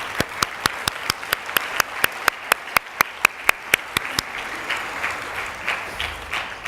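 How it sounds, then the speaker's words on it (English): A round of applause for the Winchester Class of 2018 at their graduation ceremony: a run of sharp, evenly spaced claps rings out clearly, then fades into a softer, diffuse wash of clapping. "I think every one of us truly deserves a heartfelt round of applause"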